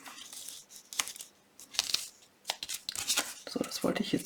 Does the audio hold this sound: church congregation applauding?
no